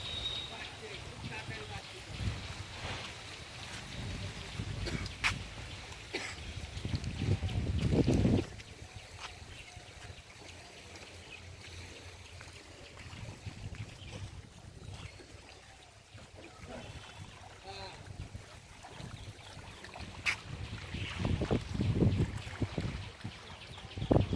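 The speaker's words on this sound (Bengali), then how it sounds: "এখানে খুব হাওয়াও দিচ্ছে।" Wind gusts buffet the microphone at a riverside bathing ghat in Halisahar, rumbling in uneven surges that rise and fade over the length of the recording, with a voice talking intermittently through it.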